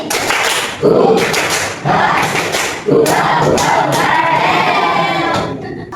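A classroom of students claps a rhythmic spirit clap in bursts, with broadband strikes coming in grouped patterns and some voices mixed in.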